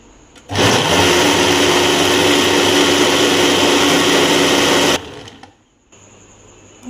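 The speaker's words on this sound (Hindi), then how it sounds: "इसे करते हैं ग्राइंड।" A kitchen blender grinds mango, milk, sugar and ice in a loud, continuous whir that starts abruptly, holds steady for about four and a half seconds, then cuts off, leaving a faint hum.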